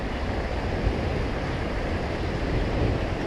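A strong river current rushes steadily, a broad continuous wash of water noise with some wind buffeting the microphone, loud and unbroken throughout.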